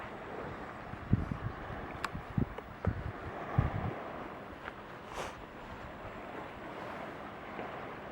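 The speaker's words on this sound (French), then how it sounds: "Mieux voir l'arrivée des vagues." Sea waves roll in at a high spring tide beside a seawater pool, faint and moderately distant, with soft irregular surges and light wind buffeting the microphone.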